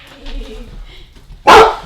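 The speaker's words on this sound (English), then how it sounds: "I love the barking" A dog at an animal shelter gives one sharp, loud bark near the end, preceded by faint whimpering and quiet background murmur.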